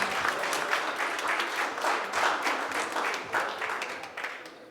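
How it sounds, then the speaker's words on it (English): Applause from an audience at a pitch night event, steady dense clapping sustained for several seconds at moderate distance, with a few brief voices underneath. "Let's give him a round of applause."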